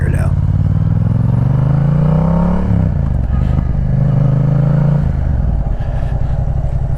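Yamaha MT-07 motorcycle riding out of a neighborhood, its engine droning steadily and close with shifting pitch as it rolls along, a brief dip near the middle; someone talks over the engine noise.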